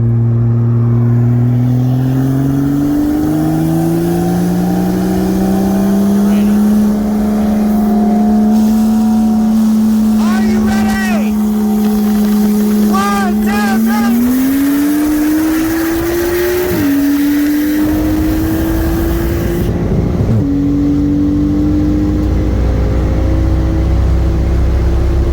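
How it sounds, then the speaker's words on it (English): A 2016 BMW M3 with an upgraded single turbo kit on E85 fuel accelerates hard from 60 mph in a roll race against a 2018 Audi RS3, engine pitch climbing steadily through long pulls with brief shift breaks, loud and close throughout. "the first race we are going to do with the RS3 is going to be from 60 miles an hour"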